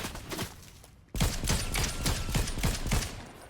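Gunfire in the video game Fortnite, Zero Build mode: after a brief lull, a sustained burst of repeated rapid shots keeps up a steady rhythm, fairly close and loud.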